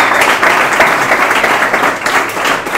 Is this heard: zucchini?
no